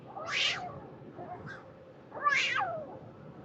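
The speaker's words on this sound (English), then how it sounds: "Can you hear the cat?" Two clear meows from a nearby cat, one early and a louder, longer one near the end, with a faint chirp between.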